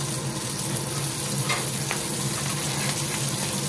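Grouse tenderloins sizzle steadily in hot olive oil in a pan, a constant loud crackling hiss with occasional sharper pops.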